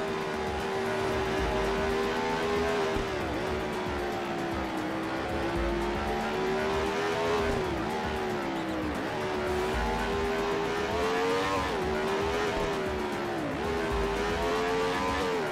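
Race car engine in the Total Immersion Racing video game on PS2 revs hard and steadily, the pitch dipping briefly at each gear change or corner and climbing back up, loud and continuous with no talking.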